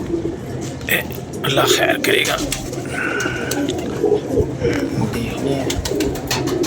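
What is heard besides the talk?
pigeons cooing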